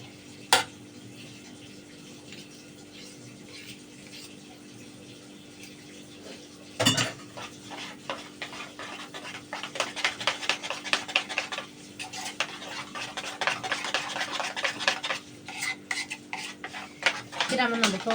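Fried potatoes and falafel being stirred and flipped in a frying pan, with a utensil scraping and clinking against the pan in quick repeated strokes over a low sizzle, close and growing busier, without talk.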